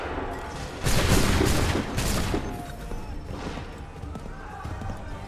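A musket volley erupts in the Assassin's Creed III battle: a dense burst of overlapping shots around one second, a few scattered follow-up cracks, then rumbling battlefield ambience with shouted voices.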